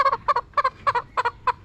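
Backyard chickens with their chicks, including a Kadaknath–Brahma cross, make a quick series of short clucking calls up close in rhythmic bursts, with no talking.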